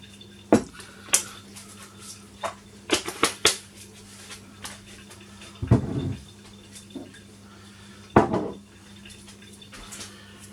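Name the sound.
adding granola ingredients to a bowl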